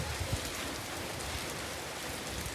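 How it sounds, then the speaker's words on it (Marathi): Steady rain falling on a rice paddy field in the Sahyadri hills during paddy transplanting, a close, even hiss of drops that continues without a break and without any voices. "पाऊस पडून राहिलाय"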